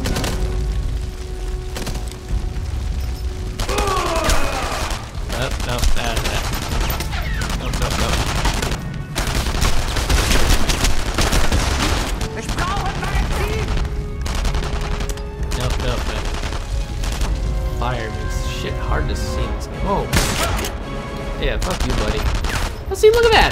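Gunfire in the World War II shooter Enemy Front crackles as dense bursts and single shots, with automatic fire and booming impacts, loud and continuous throughout, while a voice talks over parts of it.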